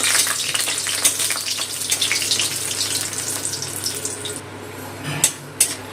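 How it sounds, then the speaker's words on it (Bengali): Lentil dumplings (bori) frying in hot mustard oil, a steady bright sizzle that fades toward the end, followed by two sharp crackling spits. "বড়িগুলো ভেজে নেবো, লাল করে ভেজে নেবো"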